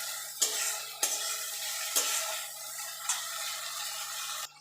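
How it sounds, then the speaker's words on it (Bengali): Ginger garlic paste sizzles steadily in a pan with a soft, constant frying hiss, while a spoon stirs and scrapes the pan in short knocks about once a second. No one speaks. "দিয়ে আদা রসুনটাকে একটু ভাজা ভাজা করে নেবো"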